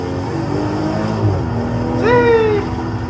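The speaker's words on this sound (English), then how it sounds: "He's ripping the canyons in an X3 M40." A BMW X3 M40 on a canyon road revs its engine, a constant rumble joined about two-thirds through by a quick rising whine as the revs climb, with no talking.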